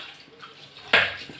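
Water splashes and runs as dishes are washed by hand in a home kitchen, a brief louder gush after quieter trickling.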